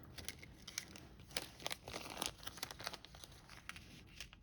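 Washi tape peels off paper in a run of faint, close crinkling and tearing crackles that come in short irregular bursts.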